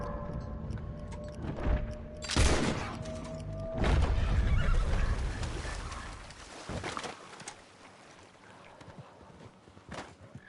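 A horse in Red Dead Redemption 2 Online neighs loudly twice in quick succession, with hoof clatter and scuffling around it, then the scene quiets to faint rustling and a soft tap.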